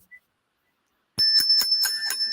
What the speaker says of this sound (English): Okay, so you can see the bell ring.